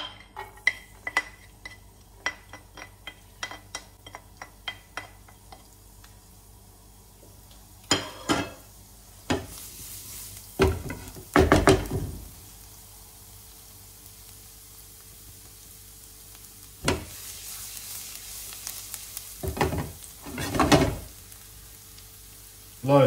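Garlic dropped into hot olive oil in a pan for seafood risotto: a quiet sizzle with clinks and taps of utensils against the pan, followed by louder bursts of frying hiss rising and fading, close by without talking.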